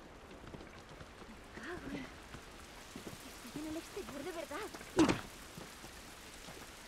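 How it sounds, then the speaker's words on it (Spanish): Steady rain in the PS3 video game The Last of Us hisses as a constant wash of droplets beneath someone talking, with a brief sharper splash near the end. "Esta lluvia no nos va a ayudar."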